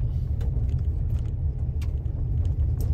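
A car rolls slowly through the front entrance of the Whitney Plantation, its low steady engine rumble and tyre noise close and continuous, with faint scattered clicks above and no talking.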